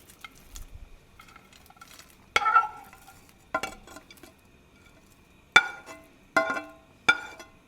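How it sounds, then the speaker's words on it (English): Browned sausage and bacon go back into a soup pot, giving a faint background sizzle broken by several sharp, close clanks and scrapes of a utensil against the pot, with quiet gaps between them. "we're going to add the sausage and bacon back to the pot."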